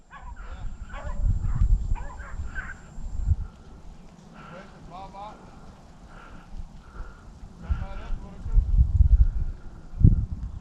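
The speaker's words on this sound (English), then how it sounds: "It's all this dog way down there." Hunting dog barking far off in the distance during a rabbit hunt, a few faint barks beneath close men's conversation.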